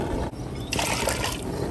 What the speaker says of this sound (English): We're going to put some hot water or regular water if that's what you have.